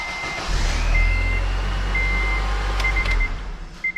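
A 2009 Acura RDX engine with a newly installed starter cranks and turns over into a low steady rumble, with intermittent high electronic beeps sounding over it.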